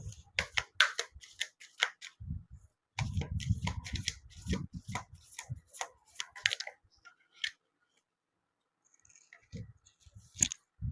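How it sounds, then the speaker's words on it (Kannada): Playing cards are laid down one at a time on a table, making soft slaps and light papery clicks scattered between a person talking nearby, with a brief quiet gap near the end. "ಓಕೆ, ಈಗ ಇಲ್ಲಿ 3 ಕಾರ್ಡ್ ಇಡ್ತೀನಿ. ಮೊದಲನೇದು, ಎರಡನೇದು,"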